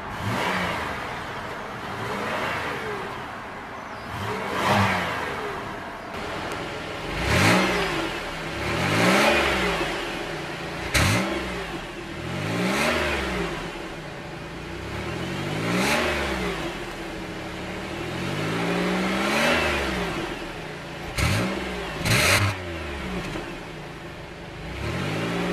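A 2004 Chevrolet Impala LS with 218k miles, its engine revved repeatedly in short bursts that rise and fall, each swell followed by a settling idle, close and fairly loud with no talking.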